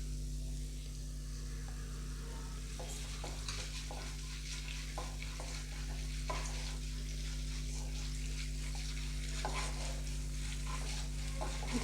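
Urad dal fries in hot oil in a pan, a quiet steady sizzle with scattered soft stirring scrapes throughout.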